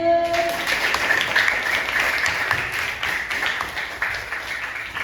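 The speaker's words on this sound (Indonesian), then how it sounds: "Tepuk tangan untuk kelompok 1." A classroom gives a short round of applause for group 1 after their answer, with steady scattered clapping from many hands that carries on evenly to the end.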